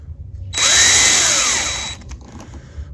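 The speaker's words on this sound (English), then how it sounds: "I'm going to drill my first hole" A power drill with an 11/64 bit bores a hole into a Kawasaki 750 SX/SXI jet ski hull, one loud close whine lasting over a second that spins up sharply, then winds down into faint clatter.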